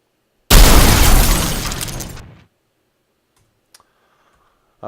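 A sudden loud burst of a video game spider enemy exploding with crackling debris, decaying over about two seconds, followed by near silence and a few faint clicks.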